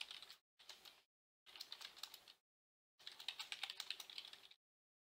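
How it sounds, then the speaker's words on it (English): Four bursts of rapid keyboard typing while entering text in The Last Guardian, the clicks bunched into short runs separated by silent pauses, close and fairly quiet with no talking. "I can enter text with my keyboard."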